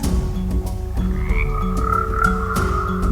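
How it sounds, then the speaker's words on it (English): Frogs croak in a steady chorus of repeated low calls with higher chirps mixed in, close and clear with no talking. "The frogs ribbit."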